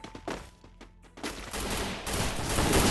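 Rapid gunfire in a battle royale game, a few sharp close shots at first, then a dense, continuous roar of fire that builds to the end, with no talking.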